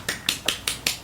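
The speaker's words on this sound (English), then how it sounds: "golf clap." A soft golf clap: five light, evenly spaced claps about a fifth of a second apart, quiet and close, with nothing else around them.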